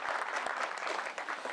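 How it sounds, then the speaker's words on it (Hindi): An audience claps briefly at a local gathering, a short burst of fairly faint, steady applause with no talk over it. "एक जोरदार ताली भी होनी चाहिए।"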